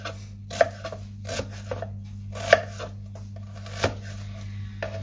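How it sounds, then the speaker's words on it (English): Knife chopping onions on a board, a handful of sharp irregular chops spaced over a few seconds, close by, with a steady low hum in the background. "So I am cutting onions"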